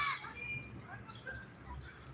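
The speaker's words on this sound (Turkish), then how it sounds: "Ama kuş sesleri havada kalmasın istedim." Faint bird chirps and whistles ring out in a park over a steady outdoor hum, brief calls scattered across a few seconds.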